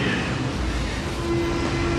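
A Berlin U-Bahn subway train produces a steady, close rumble and roar with a faint tonal whine coming in near the end, continuous throughout with no speech.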